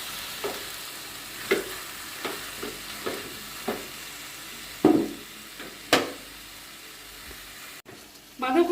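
Cabbage and potato curry stirred in a pan over lowered heat as the water cooks off: soft steady sizzling under sharp spoon scrapes and taps at irregular intervals, fairly quiet and close.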